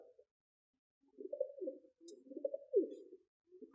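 Pigeons coo softly nearby in a few low, rolling, throaty phrases, separated by brief quiet gaps.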